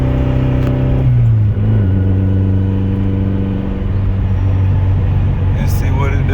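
A turbocharged Honda car engine revs and accelerates from inside the cabin, its loud droning note climbing in pitch and holding steady, with a faint whistle late on.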